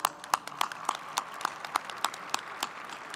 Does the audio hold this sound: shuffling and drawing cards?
no